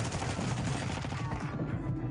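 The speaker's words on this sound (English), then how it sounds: "Shot twice to bait him." Rapid gunfire from a shooter video game, heard as a dense burst of loud shots over a busy game-sound backdrop, with the bursts thinning toward the end.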